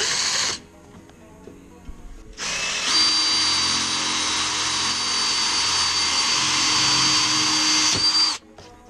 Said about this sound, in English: we're going to drill the hole in the end here to get our nut through.